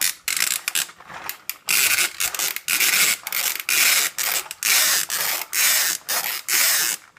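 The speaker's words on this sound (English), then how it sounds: "You can put the key inside of the canopy to give it the revving feature." Toy Turbo Falcon Megazord from Power Rangers Super Megaforce playing its electronic revving feature with the key plugged into the canopy: a rapid series of harsh, hissy engine-like bursts separated by short gaps, loud and close, with no talk.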